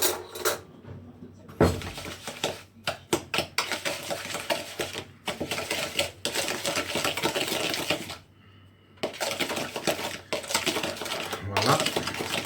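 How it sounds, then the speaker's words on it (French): A spoon stirs banana cake batter in a bowl, giving a busy run of scraping, clinking and tapping against the dish for about twelve seconds, with a short pause partway through. "Maintenant, vous mélangez avec une cuillère."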